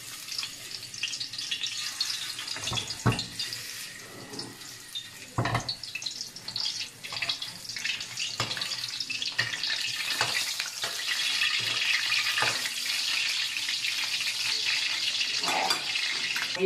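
Ginger and a salted fish head fry in hot oil in a home kitchen for a fish head and tofu soup, giving a steady close sizzle that grows louder and denser toward the end, with a few stirring clatters along the way.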